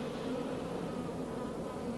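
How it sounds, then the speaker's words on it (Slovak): Bees hum around about a dozen homemade beehives scattered through a garden, a continuous even drone that stays close and steady, with no voices. "Po celej záhrade je roztrúsených asi tucet doma vyrobených včelínov"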